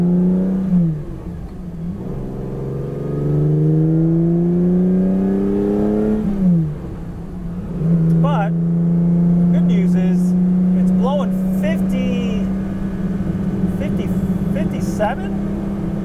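A car engine drones steadily through a test drive, its pitch climbing in long sweeps as it revs through the gears, with short drops at each shift; a voice talks over it throughout.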